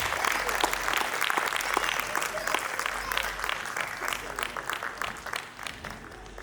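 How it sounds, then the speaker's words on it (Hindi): Steady, dense applause from an audience welcoming a woman guest at the Tejaswini ladies' welfare association annual function in Rishikesh, sustained and fairly loud with crowd murmur. "बहुत सारी तालियों के साथ मैम का स्वागत."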